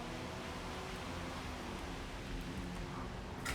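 Steady, hissing rain pours down during a thunderstorm race at the Nürburgring in a racing video game with a pre-war Auto Union car, a dense, even wash of noise with no voices.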